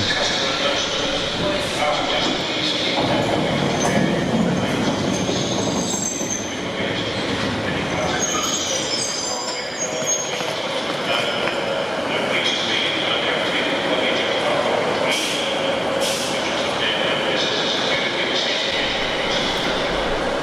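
A train rumbles and clatters at a single bay station platform, with its wheels squealing on the rails, while a person speaks over the noise.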